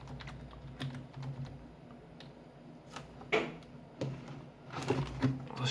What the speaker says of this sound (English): the keys, when you press them, the keys are quite soft, quite nice to press.